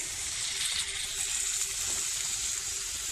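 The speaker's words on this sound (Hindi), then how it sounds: "1 कप दूध डाल देंगे इसमें।" A cup of milk is poured into a hot mixture in a pan over a medium flame while making chicken patty filling, giving a steady, close sizzle with no talk.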